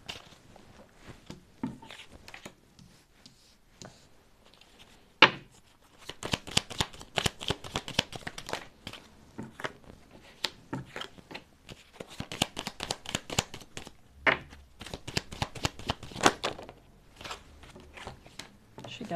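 Tarot cards shuffled and drawn by hand in a quiet room, with bursts of rapid riffling flutter broken by short pauses and a few single card slaps, close and crisp, no voice.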